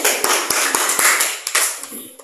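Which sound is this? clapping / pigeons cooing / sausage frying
clapping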